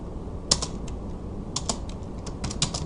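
Keys clatter on a computer keyboard in short bursts of quick taps separated by pauses, close and fairly soft over faint background hum.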